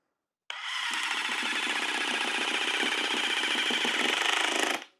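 DeWALT quiet impact driver sinking a 3-inch wood screw at speed 1, one continuous buzzing whir lasting about four seconds, close and steady, then cutting off abruptly.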